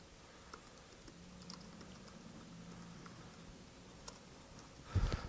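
Code being typed on a computer keyboard during a Groovy and Grails programming session, a steady run of soft clicking keystrokes at close range, with a louder burst of clatter near the end.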